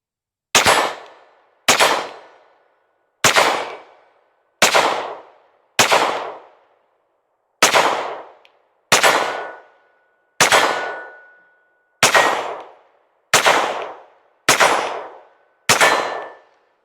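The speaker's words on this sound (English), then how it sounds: "almost 70 rounds through it, and I was out at 30 yards and I was making consistent hits" Pistol shots from a PSA Rock 5.7 fired at an outdoor range target about 30 yards out, eleven sharp loud cracks with short ringing decays, spaced irregularly around one to two seconds apart.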